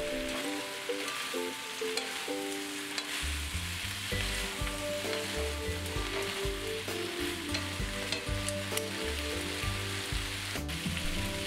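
An eggplant mixture sizzles and crackles steadily in a hot pan as it is tossed, with repeated scraping and stirring movements over a continuous frying hiss, close and fairly loud, with no voices.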